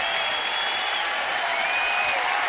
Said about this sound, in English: a nice ovation by the fans